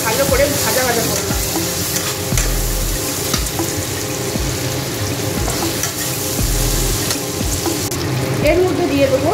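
Egg tarka masala with kasuri methi fries in a pan, giving a loud, continuous sizzle with stirring scrapes and occasional low knocks.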